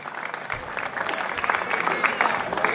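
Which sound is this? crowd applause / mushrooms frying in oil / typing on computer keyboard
crowd applause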